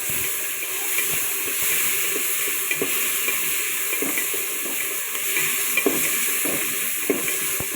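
Tomatoes fry in a pan for mung bean stew, giving a steady bright sizzle with occasional soft stirring scrapes and pops over the constant hiss.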